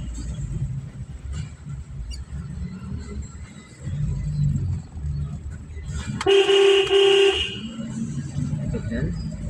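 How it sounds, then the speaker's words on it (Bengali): A car horn sounds loudly during a driving lesson, one sustained honk lasting about a second, over steady engine rumble while an instructor talks. "হরেন দেন"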